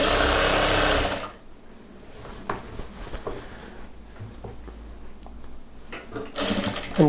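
A tailor's sewing machine runs loud for about a second stitching the joint of a chudidhar pant, then drops to quiet handling clicks before whirring up again briefly at the end.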